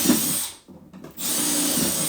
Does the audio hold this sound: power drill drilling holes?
yes